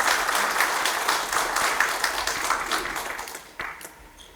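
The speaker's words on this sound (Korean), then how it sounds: "큰 박수를" An audience at an academic conference marking an independence-movement centenary claps warmly, the dense applause gradually thinning and fading, with a few scattered louder claps toward the end.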